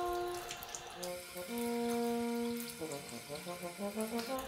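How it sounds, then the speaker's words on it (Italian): Tap water runs through the tubes of a trombone slide during cleaning, a steady hiss and gurgle of flowing water that shifts in pitch as the tube fills, close and continuous. "Facciamo scorrere l'acqua all'interno del tubo e la facciamo defluire dall'altra estremità."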